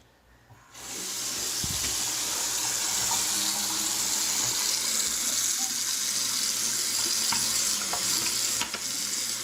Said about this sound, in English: And let's turn the water on here.